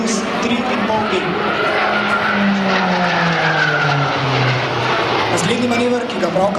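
A Pilatus PC-9M turboprop flies aerobatic maneuvers at an open-day air display, its loud engine drone rising and falling in pitch as it passes, with a voice likely speaking over it.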